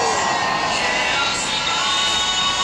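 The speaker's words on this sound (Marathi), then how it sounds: "टाळ्या." Audience at a talk by a wing commander cheering and applauding, a dense, loud wash of crowd noise with whoops that holds steady throughout.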